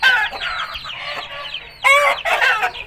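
A pure aseel hen clucks and squawks in quick, loud bursts nearby, a run of rapid calls followed by a short pause and two more sharp outbursts.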